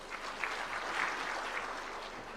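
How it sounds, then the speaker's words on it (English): Faint, distant applause from a conference audience at an investment conference in Murang'a, a soft steady patter of many hands with no clear voices over it. "the audience also welcome that with a clap"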